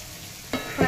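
Onion, green chili and carrot hitting hot oil in a pan, bursting into a sudden loud sizzle halfway through, brief and close.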